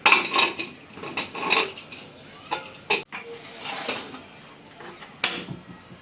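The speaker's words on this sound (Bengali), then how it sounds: "এখন প্রেশার কুকারটা ঢেকে চার থেকে পাঁচটা ছিটে দিয়ে নিচ্ছি" Metal clanks and scrapes close by as a pressure cooker lid is fitted and locked onto the pot, a few sharp knocks in quick succession, no voices.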